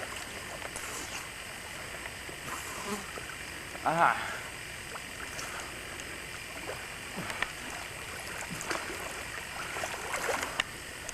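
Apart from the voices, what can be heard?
water sloshing as a man swims in a swimming hole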